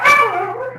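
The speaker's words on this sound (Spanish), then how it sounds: "Ahí te contesta el perro, Fede." A dog gives one short bark that trails into a whiny, howl-like yelp, close and fairly loud, lasting under a second.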